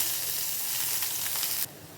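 Mustard seeds and small shallots sizzling in hot oil for coconut chutney, a steady close crackling hiss with faint stirring scrapes, cutting off abruptly near the end.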